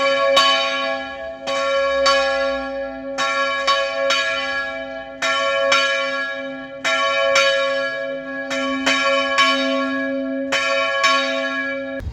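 Church bells ring out in Massana, a mountain town in Andorra, with repeated resonant strikes in a steady rhythm whose overlapping tones sustain and blend between hits, loud and clear with no talking.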